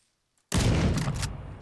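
A single sniper rifle shot in a video game bursts out suddenly after near silence, loud and close, then rings and fades over about a second.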